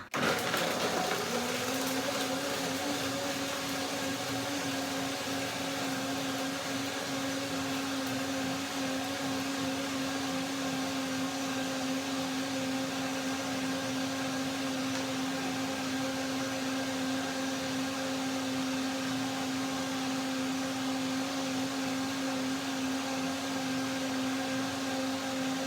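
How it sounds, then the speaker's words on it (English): A blender runs continuously on macadamia nuts for rosemary dill mayonnaise, a steady mechanical whir with a sustained motor hum, starting with a brief jolt and then droning evenly and moderately loud throughout. "still they're heavy to blend, and I usually do a second blending with macadamias"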